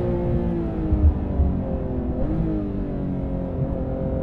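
A Porsche 991.2 GT3 on a race circuit, its engine a steady, loud harmonic drone heard from inside the car, with small shifts in pitch and no clear rev peaks, alone without talk.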